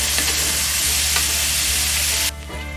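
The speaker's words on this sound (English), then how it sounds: "you want to stir in it continually to make sure that it's not sticking to the pan and burning" Food for Romanian cabbage rolls is stirred in a pan on medium heat, giving a loud, steady sizzle close up with faint scraping, and the frying noise drops off sharply near the end.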